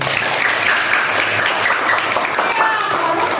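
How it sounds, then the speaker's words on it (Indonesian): Students in a classroom give a burst of applause, with dense, continuous clapping lasting a few seconds at close range and voices mixed in. "Beri aplaus."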